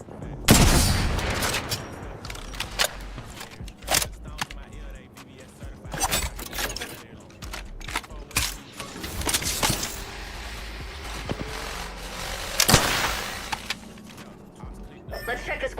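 Bursts of gunfire from the battle royale game Apex Legends during a ranked match, loud sharp volleys scattered across the stretch with in-game voice lines and ambient battle sounds between them.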